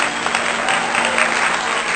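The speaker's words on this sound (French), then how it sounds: "Acclamez très fort pour le roi des rois" A church congregation claps loudly and continuously during a service, a dense, even wash of applause with no pauses.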